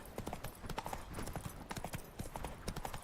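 Horse hooves clip-clopping in The Witcher 3, a quick irregular patter of close hoofbeats over a faint background bed, with a few voice-like sounds mixed in.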